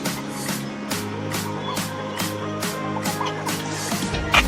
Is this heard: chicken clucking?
yes